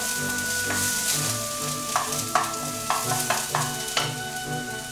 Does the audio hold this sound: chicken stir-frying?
yes